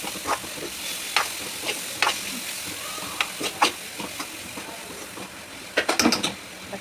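Semolina (chow chow) toasting in ghee for payasam, giving a soft continuous hiss with scattered clicks of a spoon stirring against the pan and a short burst of sharper scraping near the end. No one speaks.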